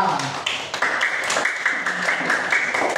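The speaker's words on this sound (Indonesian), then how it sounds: "tepuk tangan untuk Mas Arya" Pupils in a third-grade primary school classroom clap for a classmate, a short burst of close, uneven hand claps with voices mixed in.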